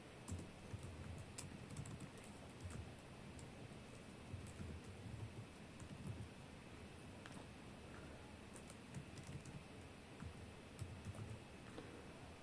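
Quiet, rapid clicking of keys on a computer keyboard, irregular bursts of typing with small pauses, heard close but faint over a soft room hiss, no voices present.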